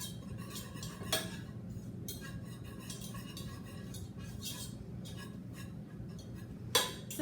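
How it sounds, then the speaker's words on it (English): A whisk scrapes and clinks against a pot while stirring butter and flour for a cheese sauce, with soft rhythmic metal taps and a couple of sharper knocks, fairly quiet. "you're going to take the whisk and kind of mix it"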